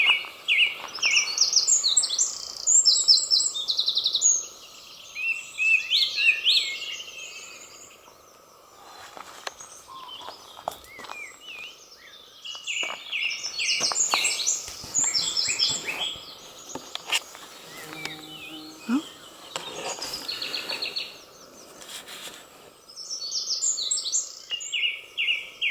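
A morning bird chorus at a rural spot in spring carries on throughout, bright chirps and trills in repeated bursts, with a faint insect buzz underneath and no voices.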